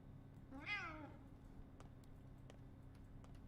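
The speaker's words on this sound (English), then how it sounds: "What's with the kitty noise?" A single drawn-out cat meow in the video game Pathologic 2, faint against a quiet hum, followed by a few soft ticks.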